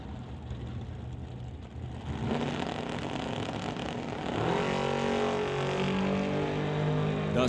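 Drag racing cars, a Ford Mustang and a Falcon, roar loudly and continuously, engines building in intensity partway through as they accelerate down the strip.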